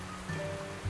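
Soft, steady rainfall patters on surfaces in the video game Duck Detective: the Secret Salami, a faint continuous hiss with no voices.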